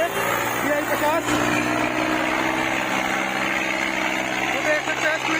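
A Sonalika DI 50 tractor engine drones steadily and loudly while it is driven during a stunt, with voices talking over the running engine throughout.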